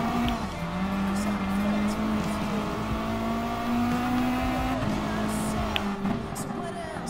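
A yellow Subaru WRX rallycross car racing in Gran Turismo Sport, the engine holding a steady droning note with slight pitch shifts as it drives, loud and continuous, with faint tire noise and a voice talking beneath.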